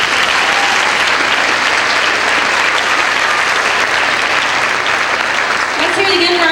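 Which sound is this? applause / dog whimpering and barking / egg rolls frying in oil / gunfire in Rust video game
applause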